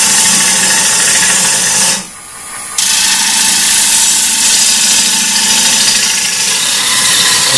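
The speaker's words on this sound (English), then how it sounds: "The hole is drilled in here for depth." A workpiece held on a lathe by a vacuum chuck is drilled for depth, a loud, steady whirring grind that cuts out briefly for under a second and then resumes.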